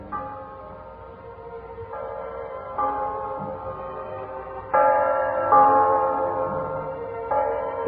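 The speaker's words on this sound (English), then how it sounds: "The bells of Christmas 1945 ring out clear and free around the world to you." Church bells ring steadily with layered tones, peals swelling and shifting in waves, loud and resonant with no voices.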